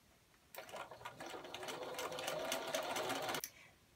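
A sewing machine stitches hook and loop tape onto a pillow back piece in one close, steady run of about three seconds, starting and stopping abruptly against a quiet room.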